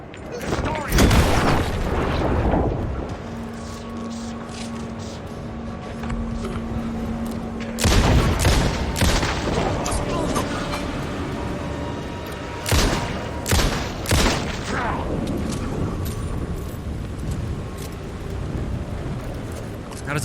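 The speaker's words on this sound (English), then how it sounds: "That is a waste of flashbangs." Flashbang blasts in the video game Alan Wake II go off as several loud, sudden booms with crackling tails over a rumbling backdrop, and a voice can be heard over the game sounds.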